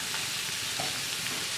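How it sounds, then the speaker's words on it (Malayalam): Onions sautéing with salt in a pan for a Kuttanadan duck roast, a brief, soft, even sizzle with light stirring and no talk. "ഉപ്പുപൊടി ചേർത്ത് വഴറ്റുമ്പോഴത്തേക്കും സവാള ഒന്ന് പെട്ടെന്ന് വഴന്ന് കിട്ടും"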